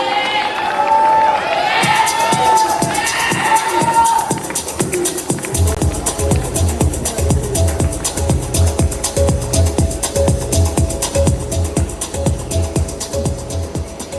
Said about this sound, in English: Can we welcome him with a big round of applause,